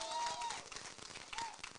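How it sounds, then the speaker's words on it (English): Scattered clapping from a crowd of Kenyans at an Azimio la Umoja town hall in Washington, moderately loud at first and thinning into sparse individual claps toward the end. "A big round of applause to yourselves."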